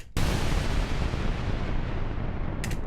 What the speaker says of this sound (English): So basically just took the preset explosion and stuck that in.